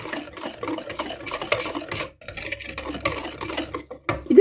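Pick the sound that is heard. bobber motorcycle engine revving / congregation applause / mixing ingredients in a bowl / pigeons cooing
mixing ingredients in a bowl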